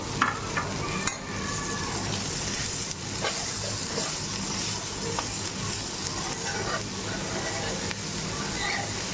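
Fried cauliflower florets being stirred into sizzling masala in a pan for a dhaba-style gravy dish, with a steady fry hiss and scraping stir strokes that run continuously throughout.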